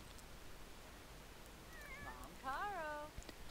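A cat meows in The Sims 4, a couple of short rising-and-falling calls in the second half over a low background hum, fairly close.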